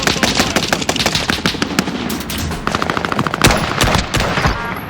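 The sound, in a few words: M1 Garand rifle gunshots in Call of Duty video game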